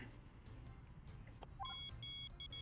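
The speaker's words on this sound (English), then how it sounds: "I think that's my phone" A phone rings in the video game Murder by Numbers, a short repeating electronic trill arriving partway through and playing in bursts over a faint, busy game background.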